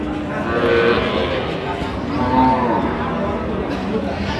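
Dairy cows and calves at Ambari cattle market, with low drawn-out moos rising over a busy crowd murmur, several calls overlapping across the stretch while people talk nearby.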